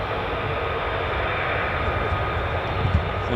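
An F-15 or F-35 fighter jet landing with aero braking at RAF Lakenheath, a loud continuous broadband engine roar heard from a distance, steady throughout with no talking.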